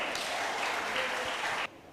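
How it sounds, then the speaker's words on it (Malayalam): A hall audience at a church parish meet quiz gives a short, even burst of clapping that cuts off sharply after under two seconds. "നല്ല കയ്യടി കൊടുത്തേ."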